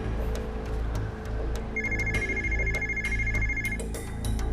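A mobile phone rings with a repeating electronic ringtone, a bright melodic pattern playing close over a steady low hum, with no voices.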